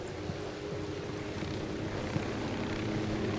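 Steady rotor and engine drone of a helicopter in the video game Ghost Recon Wildlands, a continuous even roar with no voices over it.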